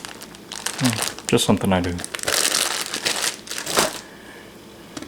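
A plastic bag is squeezed to push the air out, giving crinkling and rustling bursts close up while someone talks over it.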